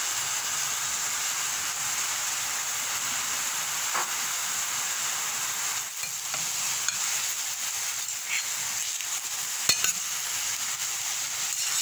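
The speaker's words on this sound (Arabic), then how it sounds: "تما نزيدوا على الفلفله حتى هي تطيح لينا مزيان" Peppers frying in a pan for Moroccan msemen filling, a steady close sizzle and hiss with occasional faint stirring clicks, heard alone without talking.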